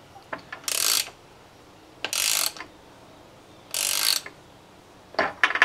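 A ratchet snugs up bolts on a Ford 6.0L Powerstroke diesel during a fuel pressure spring mod: four close, separate bursts of quick clicking, each roughly half a second long, with short pauses between them.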